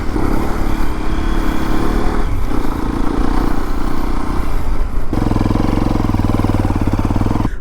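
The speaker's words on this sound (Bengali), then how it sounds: "বাইকটা অনেক আসতে যাচ্ছিল মনে হয় না" A motorcycle rolls slowly along a quiet, secluded sea beach, its engine a steady low rumble that becomes closer and more evenly pulsing toward the end.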